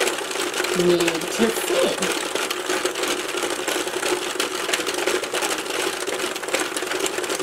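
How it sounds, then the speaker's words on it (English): A new Singer knitting machine runs with a steady, fairly loud mechanical whir and clatter throughout, while a person speaks briefly near the start. "So, is this new knitting machine better than the old one? I think the sound is a bit less annoying."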